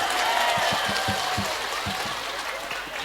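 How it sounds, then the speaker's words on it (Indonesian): An audience at an Islamic religious gathering applauds in steady, dense clapping that fills the space, loud and sustained throughout with a few heavier claps near the start. "Wow, tepuk tangannya mana?"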